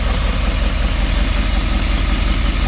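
Rolls Royce Silver Spirit engine running with a steady, rough low rumble, loud and close, with no clear rise in revs over the short stretch and no talk.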